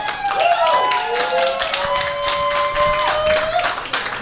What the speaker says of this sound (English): I'm going to need a bigger round of applause for the revelers.